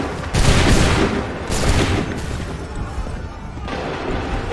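A volley of musket gunfire on command in the video game Assassin's Creed 3 Remastered: loud, crackling broadband bursts, the first near the start and another about a second later, trailing into rumbling battlefield noise.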